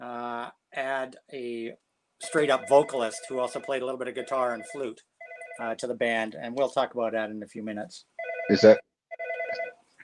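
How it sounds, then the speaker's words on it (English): A mobile phone rings with a bright electronic ringtone, sounding in two short bursts near the end over steady conversation between men. "That's my phone ringing"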